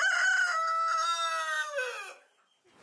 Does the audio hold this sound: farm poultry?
yes